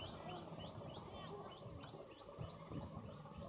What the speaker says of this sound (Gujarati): પંછીઓ સામે છે